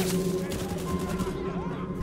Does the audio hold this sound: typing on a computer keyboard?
no